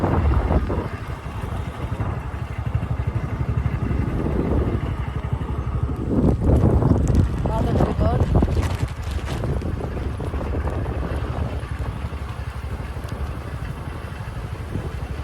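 A newly bought scooter on its first ride, giving a steady, close engine rumble mixed with heavy wind buffeting throughout, with a few louder surges midway.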